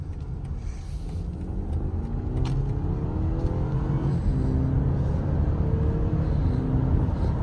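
Steady low engine drone and road rumble inside a 2023 BMW X3 on the move, building slightly as it pulls ahead, continuous and fairly loud with no talking.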